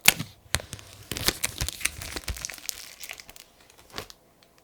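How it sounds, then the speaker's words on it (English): Crinkly plastic wrapper being pulled off a stainless steel 44mm Apple Watch Series 5 box, a run of close crackling and tearing rustles with brief pauses, fading near the end. "beautiful plastic wrapper."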